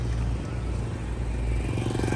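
A motor tricycle engine passes on a city street in Masbate, a steady, loud low rumble that fills the whole stretch without a break.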